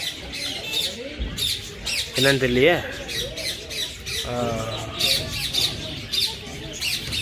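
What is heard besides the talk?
parrots squawking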